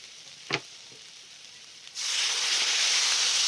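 Water pours into a hot pan of potato dum, raising a sudden loud steady hiss that continues to the end after a single faint tap before it.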